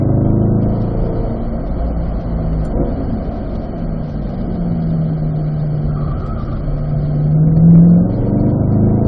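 A Corvette's engine drones steadily on a race track during an owners' driving school, heard from inside the car as a loud, continuous roar that rises slightly toward the end as the throttle opens, with no talking.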